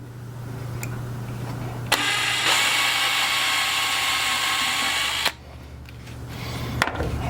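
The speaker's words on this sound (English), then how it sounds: "We drill a pilot hole." A power drill bores a pilot hole in wood for a cabinet drawer tray: a steady, high whirring spin lasting about three and a half seconds, close and alone, with a click at its start and its stop.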